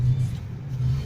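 A car engine rumbles and revs at a retro car show in Yakutsk, a low, fairly faint idle that swells and dips twice with no one talking.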